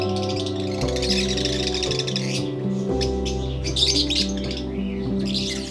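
African lovebirds in an aviary, a loud, busy chorus of shrill overlapping chirps and tweets from many birds nearby, with no one talking.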